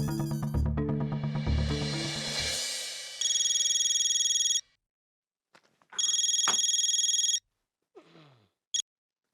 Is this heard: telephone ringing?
yes